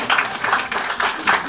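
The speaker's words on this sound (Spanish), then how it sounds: "Como el aplauso de los chavales" A young audience claps together, a short burst of close, steady applause with rhythmic swells, some voices mixed faintly underneath.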